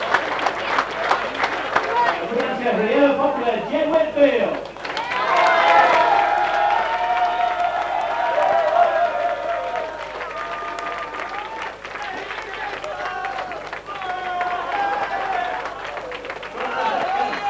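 An outdoor audience claps and cheers for the top three senior women on the podium at a 1999 downhill mountain bike race at Guise Cliff, Pateley Bridge, with a voice talking over the applause on a PA.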